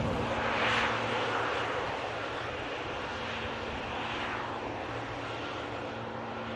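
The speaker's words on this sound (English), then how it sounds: "Air Transat just arrived in from Toronto." Air Transat airliner arriving at Manchester Airport after a flight from Toronto, its engines giving a steady, loud broadband roar that holds throughout with a faint hum underneath and no voices.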